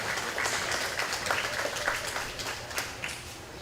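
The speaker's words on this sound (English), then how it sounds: "Let's give those exhibitors in this class a nice round of applause." An audience at a county fair hog show claps for the exhibitors in a class. The applause is moderate and scattered, with uneven claps from a modest crowd in a large space, and it thins toward the end.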